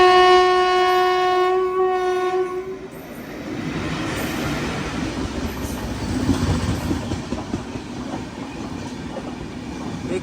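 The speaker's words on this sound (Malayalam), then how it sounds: "ലോക്മാന്യത്തിൽ നിന്ന് മഡ്ഗാവിലേക്ക് പോകുന്ന സൂപ്പർ ഫാസ്റ്റ് അതിപ്പോൾ ഇതിലൂടെ വരും." The Lokmanya–Madgaon superfast train comes through a crossing on single-line Konkan Railway track. It opens with a loud sustained horn blast, then the rumble and rhythmic clatter of wagons rolling steadily past close by.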